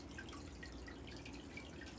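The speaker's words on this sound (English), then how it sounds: "Oh, look, waterfall." Small waterfall at a riverside farm, a steady trickling and dripping of falling water heard close and continuous without talk.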